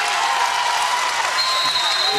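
A basketball arena crowd applauds and cheers steadily during a women's college basketball game, a dense, continuous wash of clapping that stays loud throughout.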